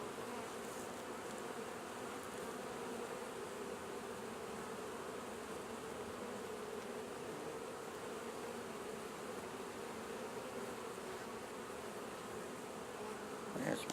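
Honeybees buzz in a dense, steady drone from an opened double-deep hive during a winter breakdown inspection, the swarm sound close and continuous throughout with no talk.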